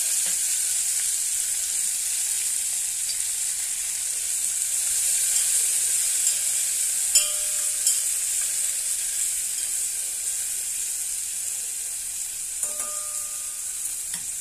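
Garlic, mustard seeds and cumin sizzle steadily in hot oil for a tempering, a continuous bright frying hiss with a few faint pops and clicks, close and fairly loud, no voices.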